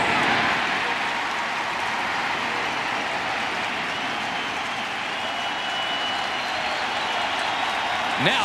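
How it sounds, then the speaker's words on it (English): A large baseball stadium crowd at a 2004 Yankees–Twins playoff game cheers and applauds in a steady, dense roar that fills the whole stretch, with no break. "Now the crowd is into it."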